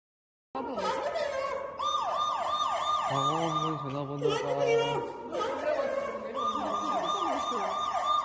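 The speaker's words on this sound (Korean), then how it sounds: "이처럼 버튼이 눌리면 화장실 밖에 있는 스피커로 비상 상황임을 알리는 소리가 울립니다" A campus restroom emergency bell alarm sounds through a speaker, a loud, continuous warbling siren-like wail with repeating up-and-down sweeps and a brief lower tone partway through, close and unbroken.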